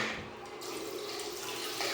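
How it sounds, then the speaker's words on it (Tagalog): A shower runs in a villa room in Palauig, Zambales, a steady hiss of flowing water spraying continuously at moderate pressure, close and unbroken, with no talk. "let's just check the water pressure"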